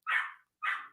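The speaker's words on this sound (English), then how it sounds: "Apologize for my dog." A dog barks twice indoors, two short, fairly loud yips separated by a brief pause, with no talking.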